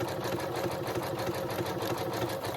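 A domestic sewing machine stitches a buttonhole on a dress, running in a fast, even mechanical whir with rapid needle ticks, steady and close with no pauses.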